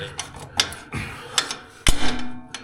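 A hammer taps a part into a slot on a Kubota BX2380 tractor in several irregular metallic knocks, one sharper and louder than the rest, close by with a brief ringing tail.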